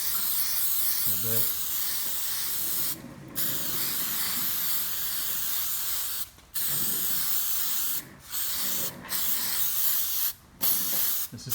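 Headlight sealer hisses from a spray can onto a car headlight in several sustained bursts separated by short pauses, close and loud, while a person speaks briefly.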